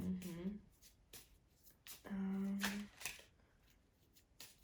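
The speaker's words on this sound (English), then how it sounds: "Shuffle your discard pile into your deck, and then I draw 5 cards." Playing cards from a discard pile being shuffled back into a deck during a Star Wars Villainous tabletop game, with two short riffling bursts and soft card handling up close, while people talk.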